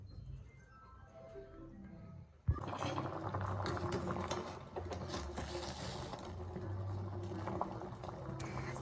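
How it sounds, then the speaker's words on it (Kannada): Cut potatoes in salted water in a pot come to a boil, a soft bubbling simmer that swells after a sharp knock, then continues as a steady close gurgle. "ಒಂದು ಸ್ವಲ್ಪ ಉಪ್ಪು, ಒಂದು ಸ್ವಲ್ಪ ನೀರು ಹಾಕ್ಕೊಂಡು ಒಂದು 5 ನಿಮಿಷ ಬಾಯ್ಲ್ ಮಾಡ್ಕೊಳ್ಳೋಣ"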